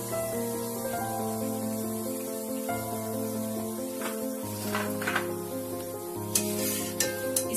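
Galfiyan sweets deep-frying in hot oil, a steady, soft sizzle and bubbling with a low, hum-like drone underneath and a few sharper crackles and spatters near the end.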